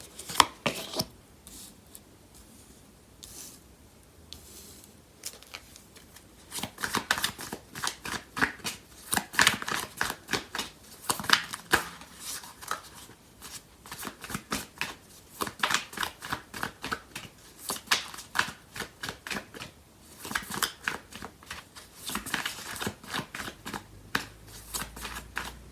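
A deck of tarot cards is shuffled close by in quick, rapid riffles and slaps, the crisp bursts coming in repeated runs after a quieter start.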